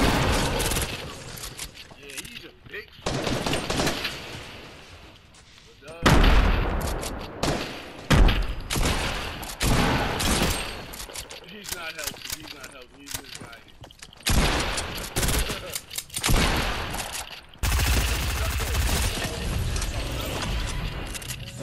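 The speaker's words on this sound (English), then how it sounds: "I got somebody else shooting at me" Rapid bursts of video game gunfire during an online shooter match, loud and dense, with mechanical clattering and a player talking over the shots.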